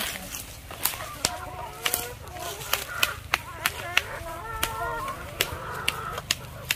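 Chickens cluck over a farm's ground at lunchtime, and their short calls mix with a regular series of sharp, loud clicks and taps that come roughly every half second.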